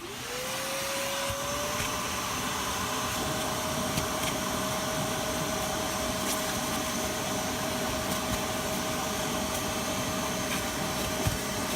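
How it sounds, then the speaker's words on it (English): A loud, steady vacuum motor roars continuously while extracting moisture from car carpet, its whine rising at the start and then holding a constant pitch, with occasional small clicks of suction. "We're gonna vacuum up the moisture and see what it looks like underneath."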